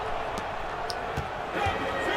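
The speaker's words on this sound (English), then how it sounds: "The crowd is getting real hype for you." Arena crowd noise from the basketball video game NBA 2K17, a steady roar with scattered sneaker squeaks and thumps that swells slightly near the end, mixed with faint commentary.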